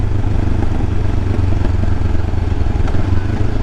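A motorcycle ridden slowly on the Transamerica Trail gives a steady, loud low engine drone with wind rumble, unchanging throughout and with no voice heard.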